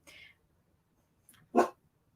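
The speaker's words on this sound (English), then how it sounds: "They're starting to bark." Dogs barking indoors, a couple of short, faint yaps separated by quiet, ending in one louder single bark.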